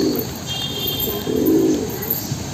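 Pigeons coo repeatedly at moderate distance in a low, rolling murmur, with faint chirps and steady background hiss, while grain is scattered for the flock and a black pigeon approaches.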